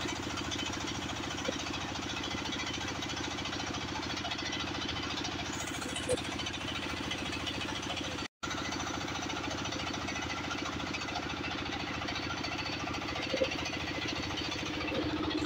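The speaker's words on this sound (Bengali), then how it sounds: "একদিকে ইঞ্জিনের যন্ত্রণাময় আওয়াজ" A river boat's engine runs continuously on a rain-swollen river, a loud, harsh, steady mechanical drone with rapid knocking pulses, briefly cutting out for an instant midway before resuming unchanged.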